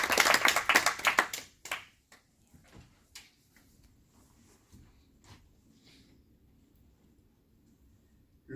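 A hall audience applauding during a quarter-final contest; a dense burst of clapping dies away within two seconds, leaving a few scattered claps and soft taps.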